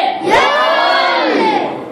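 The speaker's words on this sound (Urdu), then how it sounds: "نعرے حیدری" Large crowd at a devotional gathering in a mosque roars a loud, sustained collective shout in answer to the Nara-e-Haidari chant, voices swelling together for about two seconds before easing off.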